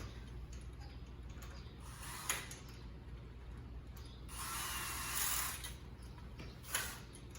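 Bolts being tightened while assembling a metal cage, a steady mechanical ratcheting whir with a few sharp clicks and a louder, denser stretch midway, close by and with no talking.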